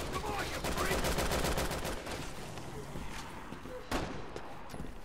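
Rapid, fairly faint bursts of gunfire crackle in the video game Resident Evil 6, with dense shots early that thin out into scattered reports, one sharp shot standing out later.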